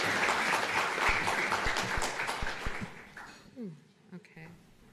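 Audience applause at a reef resilience symposium, dense clapping for the departing speakers that thins out and fades over the last couple of seconds, with a few scattered claps and faint voices remaining.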